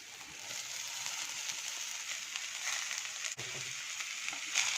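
Boiled cluster beans are stirred into a frying spice masala, giving a steady sizzle with a brief clunk of the utensil partway through.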